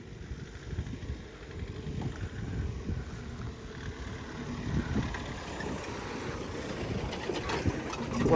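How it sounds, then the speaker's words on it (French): A new motorboat runs at a distance across the water, a low, fairly faint engine drone with wind and water wash that swells slightly toward the end. "l'homme est arrivé avec son nouveau bateau"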